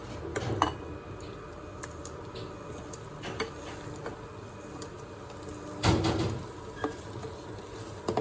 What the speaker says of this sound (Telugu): మనము ఇప్పుడు దీన్ని సర్వింగ్ బౌల్లో తీసుకుందాము